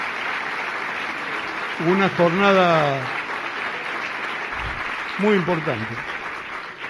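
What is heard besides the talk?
audience applause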